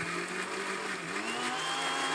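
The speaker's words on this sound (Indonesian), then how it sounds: "Bawang putih dan batang daun bawang yang bagian putihnya langsung di blender halus." Blender whirs steadily while grinding garlic and the white parts of leek stalks into a smooth spice paste for cilok, a loud continuous motor hum with no talking.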